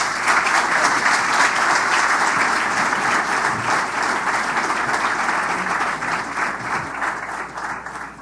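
Strong, sustained applause from a conference audience for guests of a business panel, dense steady clapping that continues loud throughout and tapers slightly toward the end.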